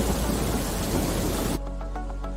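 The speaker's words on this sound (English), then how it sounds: "came down again in the shape of a giant storm, our entire planet would be covered in 1 inch of rain." Heavy rain and storm noise roar loudly as a dense wash for about a second and a half, then cut off abruptly to quieter background sound.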